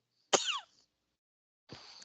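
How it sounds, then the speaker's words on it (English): Two short, sharp bursts, a sneeze followed after a pause by a second, fainter sneeze-like sound, close and otherwise silent. "Yeah, I sneezed."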